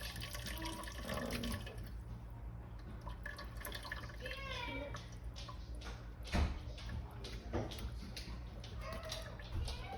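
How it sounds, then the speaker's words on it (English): Vegetable broth poured from a pot into a container in a home kitchen, a steady liquid splashing and trickling with a few louder sloshes, up close, with faint voice in the background. "now I'm just gonna pour the rest of the broth in here"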